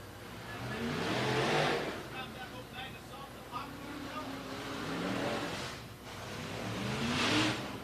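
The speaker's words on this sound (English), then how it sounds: "Looks like we got some IMCA Modifieds rolling out." IMCA Modified race cars rolling out onto a racetrack, their engines rumbling and revving in swelling waves in the middle distance, under continuous announcer talk.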